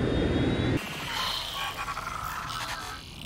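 Airplane engine in the video game Watch Dogs Legion, a steady droning roar that drops off abruptly and then carries on as a lighter, shifting hum, with no one talking.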